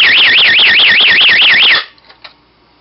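A DIY electronics security alarm kit blares a loud warbling siren that sweeps up and down repeatedly for almost two seconds, then cuts off, leaving a couple of faint clicks.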